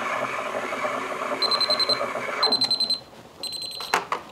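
A kitchen timer beeps in rapid repeated groups while matcha is made, loud and close, over the steady hum of a milk-heating machine that cuts off partway through.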